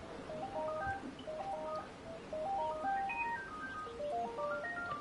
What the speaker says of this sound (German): ich muss mal ganz kurz an das Telefon gehen